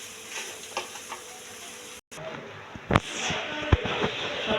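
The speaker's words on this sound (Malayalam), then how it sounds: "അപ്പോൾ നമ്മൾ കായും കടലയും നമ്മൾ അതിലേക്ക് വേവിച്ച് വെച്ചത് അതിലേക്ക് ഇട്ട് നന്നായിട്ട് ഇളക്കി കൊടുക്കും." Cooked plantain and chickpeas stirred in a hot pan for a curry: a steady sizzle with scraping and clinking spoon strokes, close up, and no talk.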